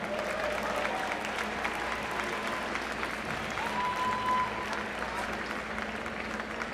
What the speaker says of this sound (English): Let's have a nice round of applause for all of them.